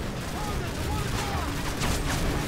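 Gunfire in the Call of Duty Modern Warfare 3 video game, with an M4A1 in play: a steady, dense stream of game-combat shots and bursts over continuous background noise, with talk mixed in.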